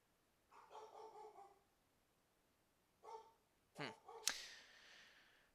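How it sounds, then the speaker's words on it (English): Dogs barking at something outdoors, heard as a few short distant bursts with gaps of quiet between them, faint and partly mixed with other noise. "The dogs are barking at something."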